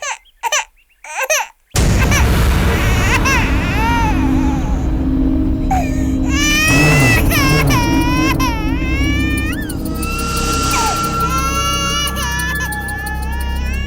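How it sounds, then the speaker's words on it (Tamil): Infant crying inside a parked car, loud and continuous with rising and falling wails, following a few short sounds and mixed with background noise and some voices. "ஐயோ, குழந்தை அழுகுற சத்தம் கேக்குது."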